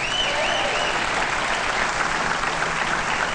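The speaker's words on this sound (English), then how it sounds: "you guys owe yourself a round of applause" A crowd at a 1993 Arizona entertainment awards ceremony applauding, a sustained, full wash of clapping from many hands, loud and continuous, with faint cheering tones on top.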